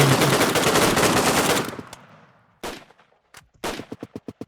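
In the shooter game Redmatch 2, a long dense burst of rapid automatic fire ends abruptly. Scattered single shots follow, then a quick run of sharp cracks at close range, loud and with no voices.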